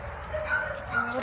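A small female dog of about 35 pounds yips and whimpers in short, high bursts close to the microphone. A person talks over the sounds the whole time.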